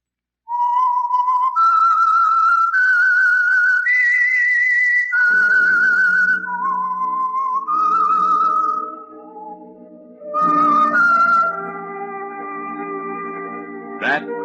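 A long melodic whistled tune for The Whistler radio program rings out loud and clear with no talk, wandering through rising and falling phrases before an orchestral chord swells in beneath the final notes.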